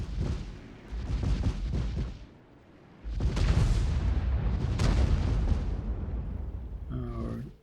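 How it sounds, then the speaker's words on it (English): A Czech light tank in World of Tanks fires heavy booming rounds, with one burst of shots, a brief lull, then a second sustained barrage and a faint tail at the end. "Our Czech light tank, the Selma, is trying to decorate the ground with bullets."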